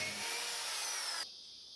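A power drill bores holes into a wooden anchor post for balustrade saddles, a loud steady high whine lasting about a second before cutting off abruptly.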